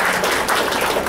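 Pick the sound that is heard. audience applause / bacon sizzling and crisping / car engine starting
audience applause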